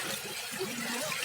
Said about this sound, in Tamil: சலச்சலன்னு ஓடுது தண்ணி.